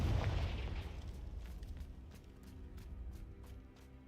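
Confringo fire explosion spell cast in Hogwarts Legacy near a Thestral nest: a single loud, fiery blast at the start that rumbles and fades over several seconds into quiet.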